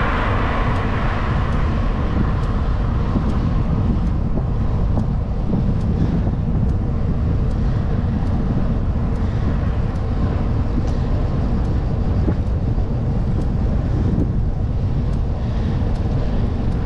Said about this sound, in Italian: Il vento contro.